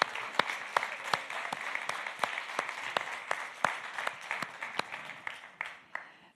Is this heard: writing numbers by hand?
no